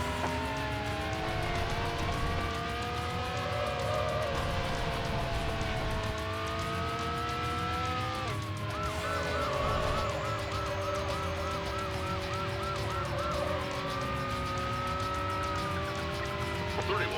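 A police car siren wails continuously in the video game Need for Speed: Hot Pursuit 2 while the cruiser chases a red Ferrari 550, with loud engine roar beneath the rising and falling tones.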